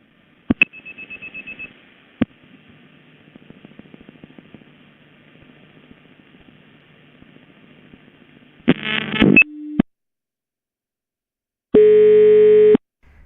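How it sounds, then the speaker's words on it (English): Sharp relay clicks and a soft train of dial pulses on a Ukrainian or Russian crossbar telephone exchange, then a clattering burst of switching followed by a steady ringing tone; no voices. "The relay sound being very evident there, and the first digit being fairly pronounced"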